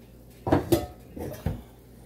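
Metal cookware clanks as a lid is set onto a pot of cooking boba, with a few close, ringing knocks and a brief scrape, and no talking.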